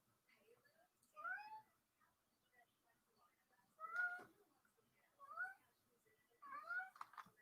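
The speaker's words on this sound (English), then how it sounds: "my cat wants in my son's room" A pet cat meows repeatedly outside a closed bedroom door, wanting in: four clear, fairly close, drawn-out meows spaced a second or two apart against quiet room background.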